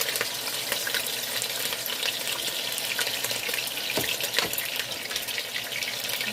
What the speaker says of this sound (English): I'm going to add my bacon to the hot grease.